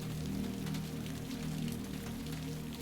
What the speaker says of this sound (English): Rain patters on the canopy above the sleeping nook.